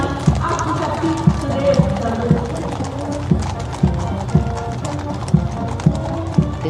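Cavalry horses of the 61 Cavalry trot in a ceremonial Republic Day parade in Delhi, their hooves clip-clopping in a steady rhythmic pattern with sharp regular strikes over a busy outdoor crowd and commentary background.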